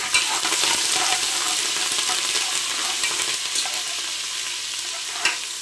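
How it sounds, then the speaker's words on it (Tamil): Green chili and curry leaves sautéing in hot oil in a pan, a loud, steady hissing sizzle with faint scraping of stirring, close by and continuing throughout without talk. "அது கூடவே 2 கொத்து கருவேப்பிலை எல்லாம் சேர்த்து நல்லா வதக்கிக்கலாம்."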